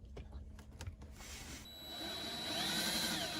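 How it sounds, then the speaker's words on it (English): A power drill bores into the center of a small metal car part on a project drift car. Scattered knocks come first, then a steady, rising motor whine with grinding close by, with no talk. "And you basically just drill in the center of this and hope for the best,"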